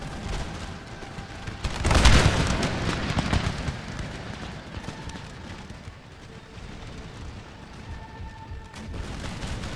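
A musket volley in Empire Total War erupts in a loud burst of overlapping shots early on, then settles into scattered crackling gunfire and battle rumble that fades to a quieter background din.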